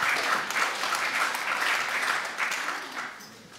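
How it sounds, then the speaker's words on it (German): A seated audience at a panel talk gives a short round of friendly applause, moderately loud and steady clapping for a few seconds that eases slightly toward the end. "Vielleicht geben Sie sich einen freundlichen Applaus"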